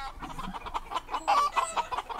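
Chickens cluck in short, choppy bursts, a busy run of close, fairly loud calls with no talking over them.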